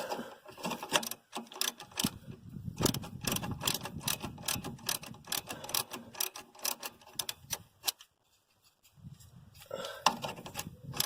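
A ratchet handle clicks in quick repeated bursts while tightening a bolt on a Honda CR-V steering rack. The clicking is close and fairly loud, stops briefly, then resumes.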